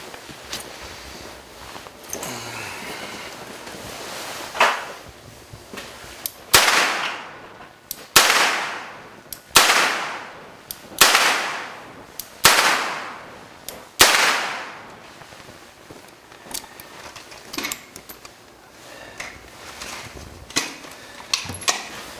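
Gunshots at an outdoor shooting range in Estrie: a series of about six loud, sharp reports spaced roughly a second and a half apart, each trailing a ringing echo, with fainter distant shots before and after.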